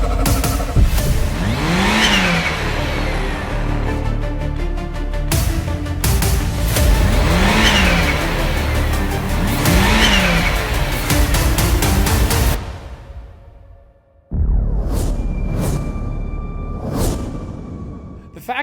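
A 2026 Kawasaki Teryx H2 supercharged side-by-side with a continuously variable transmission revs hard several times in close succession, its loud engine surging and falling, then cuts out briefly before a few sharper bursts.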